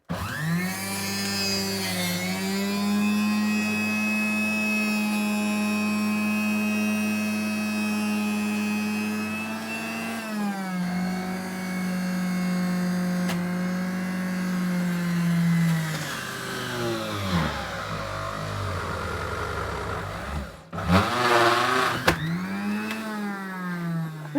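RZTK Juice 900W centrifugal juicer motor running, a loud steady high-pitched whine that dips and shifts in pitch as fruit is pushed through, then spins down and revs back up near the end.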